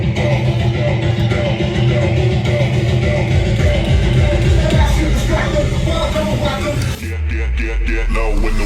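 One track blends into another on a DDJ 400 crossfader, a dense, loud electronic mix with steady thumping bass that shifts abruptly to a sparser beat near the end.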